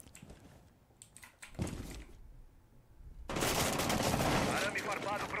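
Gunfire in Rainbow Six Siege ranked play: scattered shots and brief bursts early, then a loud sustained stretch of rapid automatic fire over the final two seconds, with a player talking in places.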